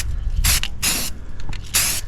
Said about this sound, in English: spray off to the side, make sure everything's spraying good